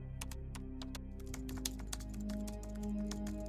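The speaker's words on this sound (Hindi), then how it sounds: "कीबोर्ड चलाने का आवाज़ तेज हो गया था।" Rapid keystrokes clatter on a computer keyboard in a quiet room, a close, dense run of sharp clicks with a low hum underneath that cuts off partway through.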